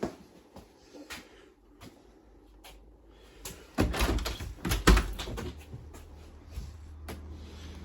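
A door in a house on Amity Street, Reading, is handled with a few soft clicks and knocks, then a louder rattle and thud as it opens and shuts, followed by faint lighter taps.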